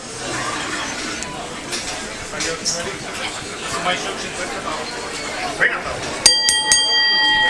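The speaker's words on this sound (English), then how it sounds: "Bell sounds, first match is underway." A ring bell clangs to start a women's pro wrestling match at an indoor show, ringing out sharply near the end over steady crowd hubbub and chatter.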